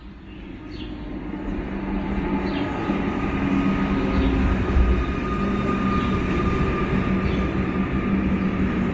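A modern train at Caulfield railway station in Victoria gives off a steady, fairly loud rumble with a smooth broadband hiss that holds evenly throughout, with no voices.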